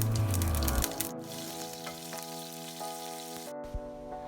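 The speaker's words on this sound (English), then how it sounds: "when they splutter, add 5 to 6 cut green chillies" Mustard and cumin seeds spluttering in hot oil, then cut green chillies frying, a steady sizzle with scattered crackles and light pops, close and moderately loud, with no voices.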